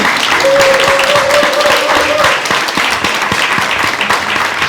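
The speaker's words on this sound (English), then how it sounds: "huge round of applause for J.R. Ryall, the fabulous Orla." An audience breaks into loud, sustained applause that fills the room evenly from start to finish, with a brief tonal whistle or cheer cutting through near the beginning.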